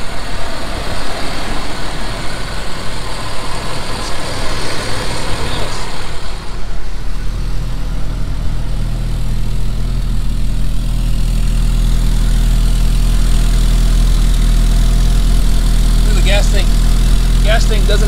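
A 1979 Ford Mustang coupe's four-cylinder engine runs at a steady idle, a loud low rumble that continues throughout, with brief faint sounds late in the clip.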